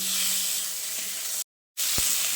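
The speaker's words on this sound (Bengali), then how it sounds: "এবার টমেটোটা দিয়ে আলু আর পেঁয়াজের সঙ্গে কিছুক্ষণ ভেজে নিচ্ছি।" Tomato frying with potato and onion in a pan for a spicy cabbage dish, a loud close hiss of sizzling oil that cuts out abruptly for a moment, then resumes with a soft knock.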